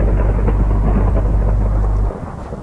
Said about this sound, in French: on a encore l'orage